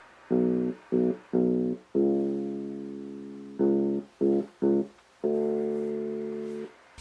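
A different bass line in the second verse of a song plays alone, with sustained harmonic notes in short and long phrases separated by brief gaps, loud and close.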